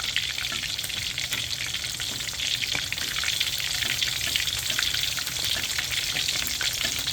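Chicken pieces frying in hot oil give a loud, continuous crackling sizzle with dense popping, steady and close throughout with no talking.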